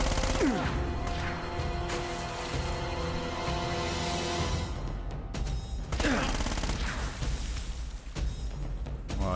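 Enemy gunfire in Uncharted: Drake's Fortune, with rapid rifle bursts and scattered single shots cracking loud and near over a background score, pausing and then resuming in a second heavy volley, with no talk.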